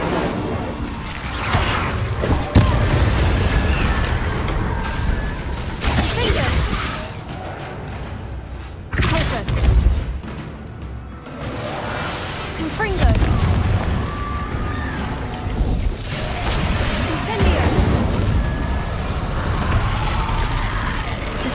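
Confringo and Incendio spell blasts in Hogwarts Legacy: repeated fiery bursts and booming impacts with whooshing swells, loud and continuous amid game effects, with a voice shouting over them.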